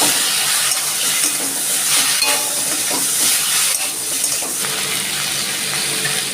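Lychee and turmeric tipped into a pan for a Bengali sour lychee dish, a steady wet scraping and stirring with a soft sizzle throughout, fairly loud and close, no voices.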